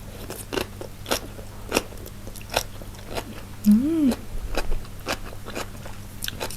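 Someone eats spicy Korean instant noodles with kimchi, producing close, repeated slurping, chewing and crunchy bites, with a brief hum-like vocal sound partway through.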